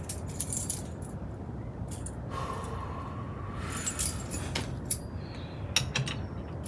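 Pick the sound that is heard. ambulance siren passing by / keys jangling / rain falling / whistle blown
keys jangling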